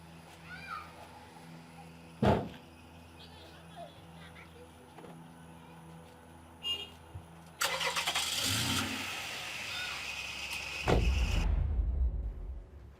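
A car engine turns over and catches with a short burst, then a steady rumble builds as the vehicle pulls away, loud and close, with scattered voices talking earlier.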